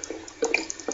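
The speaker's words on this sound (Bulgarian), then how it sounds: "Водата тук е много бърза" Fast-flowing water rushes in a survival video game, a brief close splashing and gurgling with small bursts and drips over a steady wash.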